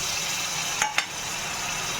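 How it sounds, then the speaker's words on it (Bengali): Garlic and onion paste added to a pan of fried green chillies and onions for a whole mung dal tarka, giving a steady broadband sizzle with two brief louder bursts near the middle. "রসুন পেঁয়াজ বাটাটা দিয়ে দিলাম"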